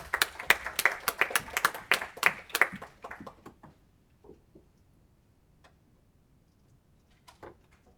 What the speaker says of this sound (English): we're going to clap for you